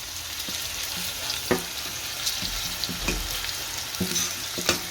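Spiced masala being stirred into stuffed okra (bharela bhinda) frying in a pan, a steady close sizzle broken by scattered scraping knocks of the spoon against the pan.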